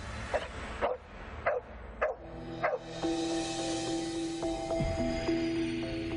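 Bourbon, a ghost-hunting dog, gives five sharp barks at a steady rhythm, fairly close and loud, followed by a sustained whining tone over a steady background hum.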